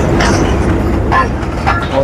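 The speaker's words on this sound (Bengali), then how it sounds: "আমাদের ট্রেন চলে আসছে" A train pulls into a crowded station in North Bengal, a loud steady rumble of rail noise blended with crowd murmur and scattered voices.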